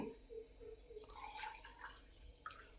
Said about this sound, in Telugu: జున్ను పాలు అన్ని గ్లాసుల్లోకి వేసేసుకుంటున్నాను.